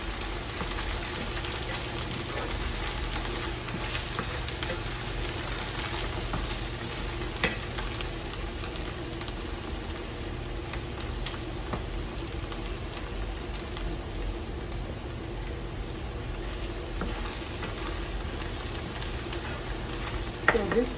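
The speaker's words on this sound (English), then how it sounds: "So water is boiling for Sadza." A pot of water boils on a home stove for making sadza, a steady close bubbling and sizzling hiss lasting the whole stretch, with faint clatter near the end.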